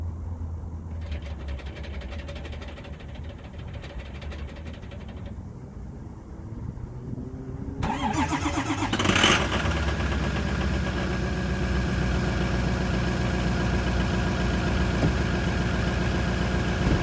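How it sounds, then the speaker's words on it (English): A 2006 Ford F-350 with the 6.0 Power Stroke diesel cranks from cold after several quiet seconds. It catches into a loud, clattering, rough idle that settles to a steady, close diesel rumble. "All right, that's a cold start. All the injectors are firing right."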